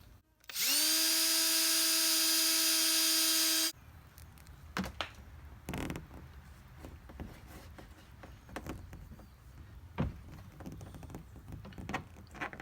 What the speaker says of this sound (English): I'm going to drill a hole in a plastic box first